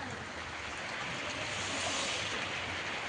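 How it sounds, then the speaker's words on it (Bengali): Water streams steadily into a pan for the sugar syrup of gulab jamun, a continuous close hiss of pouring with no break across the whole moment. "জল দিয়ে দেব।"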